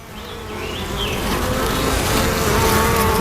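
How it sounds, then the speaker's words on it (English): Bees buzz around a top bar hive being trimmed of wildflower honeycomb, a close, steady drone that swells slightly louder over a few seconds, with faint higher whines drifting across it. "See, the bees are coming out of that honey"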